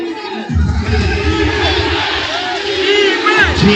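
A packed gym crowd roars and shouts during a basketball championship game, loud sustained cheering with squeaking sneakers and a whistle-like squeal, swelling again near the end.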